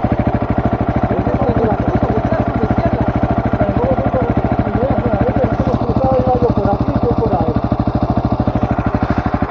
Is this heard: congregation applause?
no